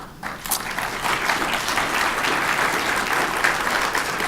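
Sustained audience applause after a keynote presentation at a conference, a steady wash of clapping that starts abruptly and carries on for several seconds without talk.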